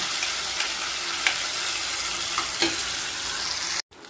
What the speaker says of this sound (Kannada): ಇದೇ ತುಪ್ಪದಲ್ಲಿ ಒಂದು ಲೋ ಫ್ಲೇಮಲ್ಲಿ ಇಟ್ಕೊಂಡು ಒಂದು ಹತ್ತು ನಿಮಿಷ ಚೆನ್ನಾಗಿ ಫ್ರೈ ಮಾಡ್ಕೊಳ್ಳೋಣ